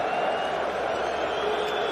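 A large stadium crowd at a rugby event boos Emmanuel Macron, a dense continuous roar of many voices filling the space at steady loudness.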